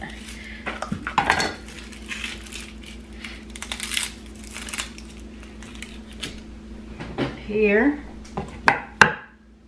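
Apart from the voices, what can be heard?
cutting an onion with a knife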